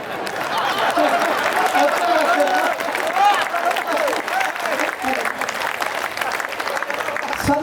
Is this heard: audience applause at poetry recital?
yes